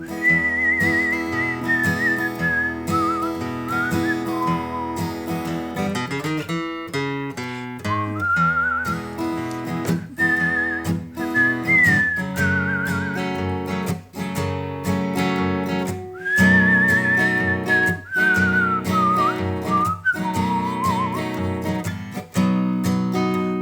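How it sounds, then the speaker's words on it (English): A person whistles a country song melody on key, clear pitched phrases sliding and wavering over a steady instrumental backing track, with short gaps between lines and no talking. "I can whistle on key, but I'm going to give it a try."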